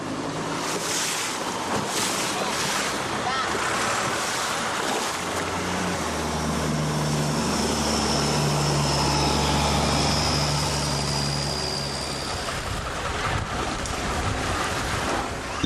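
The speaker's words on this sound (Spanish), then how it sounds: "potentes lanchas motoras, que en ocasiones recorren los klongs a toda velocidad" Motorboats speed along Thai klongs, a steady engine drone rising from about five to twelve seconds with tonal hum, over continuous water wash and wind noise.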